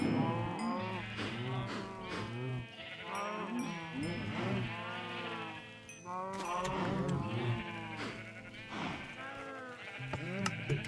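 A herd of cows lowing and bleating together in the Minecraft video game, overlapping moos filling the whole stretch at steady volume, with a voice talking over them.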